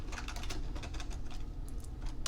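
Keys clatter in quick, uneven bursts as someone types on a computer keyboard while entering spreadsheet data. The taps sound close over a steady low background hum.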